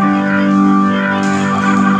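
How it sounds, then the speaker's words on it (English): Hammond organ tone from the VB3 plugin played on a live-rig keyboard, a brief loud sustained chord with steady harmonics and a brighter swell near the end, no voices. "Some Hammond here."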